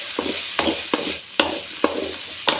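Puris for pani puri fry in hot oil with a close, bubbling sizzle, punctuated by about six regular sharp taps or splashes as they are pressed or turned, and no speech.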